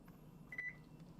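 A kitchen appliance's clock timer gives a couple of quick, faint electronic beeps over a low background hum in a home kitchen.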